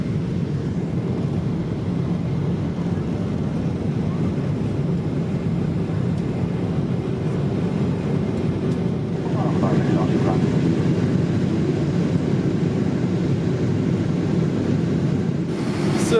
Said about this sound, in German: Wir sind jetzt im Flugzeug.